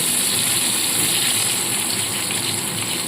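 Cut potatoes and onion stalks frying in hot oil, giving a loud, dense, steady sizzle that holds without a break from start to finish.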